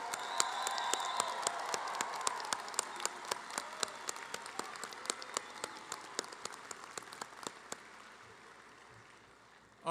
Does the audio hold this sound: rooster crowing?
no